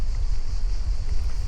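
Steady wind rushes and buffets against the microphone of a bicycle on a hot, gusty day in the Camargue, a continuous low roar with no voices.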